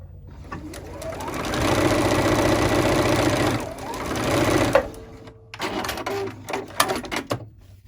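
Sewing machine stitching quilting lines through fabric and batting on a luggage tag, a rapid mechanical whirring run of stitches that slows, pauses, then restarts in shorter bursts with clicks.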